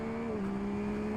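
A 2021 Yamaha MT-09 triple-cylinder engine hums at a steady, even note with a slight dip in pitch, loud and sustained throughout with no talk.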